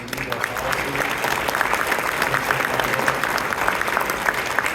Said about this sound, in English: Could you all please give her a round of applause?